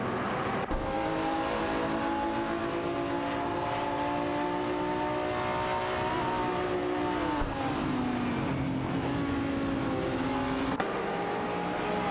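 Race cars in a racing video game, including a Marcos LM600 GT2 and an Aston Martin DBR9, drone steadily with layered engine whine that rises and shifts pitch through gear changes, sustained and loud with no pauses.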